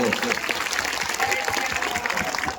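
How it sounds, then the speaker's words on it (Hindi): A crowd applauds at a Hindu religious discourse gathering, dense steady clapping throughout with a voice faintly underneath. "जोरदार ताली बजा करके धन्यवाद दो।"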